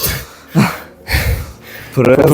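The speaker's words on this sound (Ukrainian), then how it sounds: "Задишка" Heavy, ragged breathing from someone winded after repeated hip pull-overs on a horizontal bar: three close, loud gasping bursts of breath, the last one longest.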